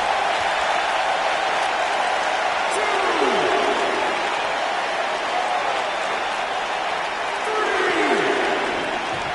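A raucous arena crowd in Philadelphia roars steadily in a video game, a dense, continuous wash of cheering and noise that stays loud throughout while a commentator's voice runs over it.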